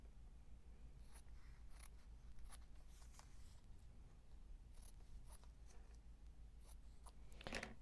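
Sharp scissor snips trimming fabric for English paper piecing, a run of quick cuts close by, some in tight clusters and a busier burst at the end, over a faint low hum.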